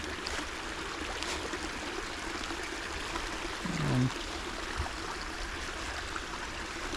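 A seasonal creek flows steadily after rain, giving a continuous broadband rush and trickle close by, with a brief low tonal blip midway and no talk.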